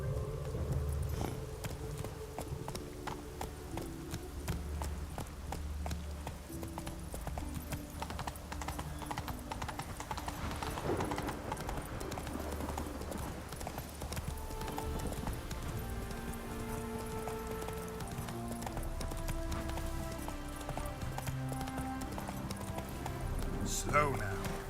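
Horse hooves clip-clop steadily in The Witcher 3, a continuous rhythmic trot over the whole stretch under game music, with a person talking over it at times.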